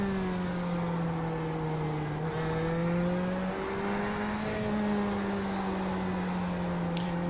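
A sim racing video game car's engine drones steadily with a smooth tonal whine that shifts pitch slightly as it holds speed, a second car closing in, continuous and moderately loud with no talking.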